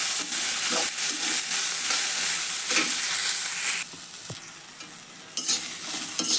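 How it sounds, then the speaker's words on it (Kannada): Spices for tempering a North Karnataka cowpea stir-fry sizzle loudly in hot oil with a bright, crackling hiss that eases partway through, then flares up again briefly. "ನಾನು ಈಗ ಒಗ್ಗರಣೆಗೆ ಬಾಳ್ಗೆ ಇಟ್ಟೇನೆ"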